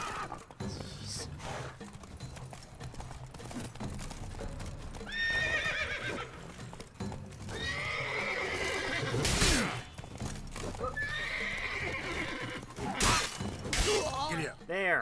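Horse in The Witcher 3 gallops with steady hoof clip-clops and lets out several loud whinnies across the clip, mixed with game ambience and a speaking voice.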